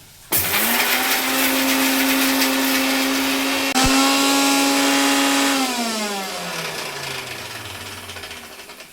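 A kitchen mixer grinder with a large jar whirs loudly while grinding ginger-garlic masala paste, a steady motor whine that cuts off after several seconds and audibly winds down to a stop.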